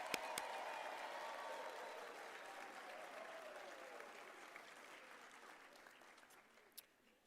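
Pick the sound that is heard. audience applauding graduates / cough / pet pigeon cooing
audience applauding graduates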